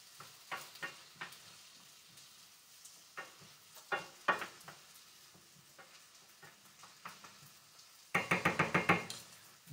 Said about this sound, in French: on fait chanter nos oignons et l'ail